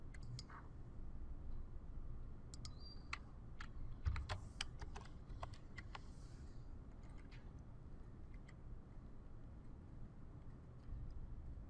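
Keys tapped on a computer keyboard while an application ID is entered into firmware configuration software, a scattered run of light clicks over a steady low background hum.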